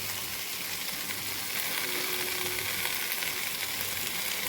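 Bottle gourd, already cooked down until its water is gone, frying dry in a home kitchen pan, giving a steady, fairly quiet broadband sizzle that holds evenly throughout without talk.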